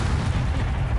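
A Reducto blast spell in the Hogwarts Legacy video game: a heavy, booming explosive burst with deep rumbling low end that sustains loudly for about a second, with no speech.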